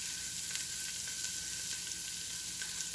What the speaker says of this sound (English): So we're going to get these sauteed down a little bit.